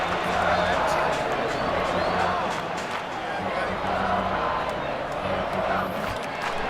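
A baseball stadium crowd in the video game MLB 2K7 roars steadily throughout in a World Series Game 7, a dense, continuous wash of cheering under a commentator's voice.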